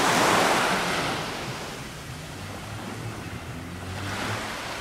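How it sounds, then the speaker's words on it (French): Sea waves break on a shore as a loud broadband rush that swells at the start, eases into a steady surging wash, then builds again. No voices are heard. "qu'est-ce que c'est reposant le bruit de la mer, les vagues"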